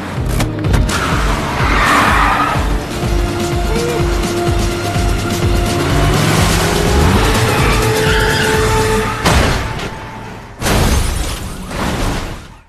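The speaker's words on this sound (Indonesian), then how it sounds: "Dan aksi kejar-kejaran pun terjadi di gedung parkiran." A car chase through a parking garage roars with engines, squealing, skidding tires and sharp crash impacts, loud and continuous with sudden bangs near the end.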